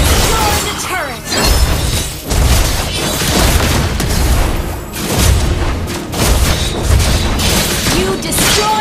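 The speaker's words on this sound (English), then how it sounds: "Your team destroy the turret!" Booming explosions and crashing impacts from a turret being destroyed in the mobile game Mobile Legends, dense and loud throughout over game music and effects, with a voice-like announcer layer mixed in.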